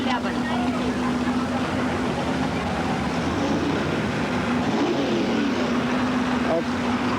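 Engine of a 1974 International two-wheel drive pulling truck at a 1986 Waupaca, Wisconsin truck pull, a steady loud drone with a strong sustained tone that wavers partway through, under crowd and PA noise.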